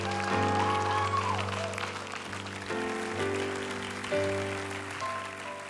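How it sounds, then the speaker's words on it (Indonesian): Audience applause at a stage show, steady clapping that carries on through the whole stretch, heard under a sustained musical backing and moderately loud throughout. "Tepuk tangan untuk Krisna"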